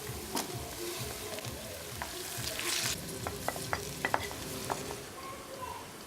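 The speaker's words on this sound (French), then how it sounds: "Faites revenir les condiments dans de l'huile." Condiments fry in hot oil for Cameroonian folong, a steady soft sizzle with a spoon stirring and scraping the pan in several sharp knocks, close and moderately quiet.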